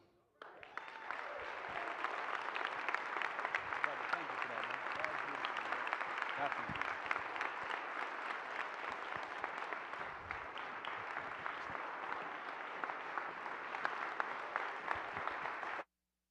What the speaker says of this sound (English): round of applause again for Frederick Joseph